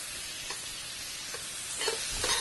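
Diced fresh tomatoes and julienned prosciutto sauté together in a pan, a low, steady sizzle broken by a few stirring scrapes that grow slightly louder toward the end, heard close with no talking.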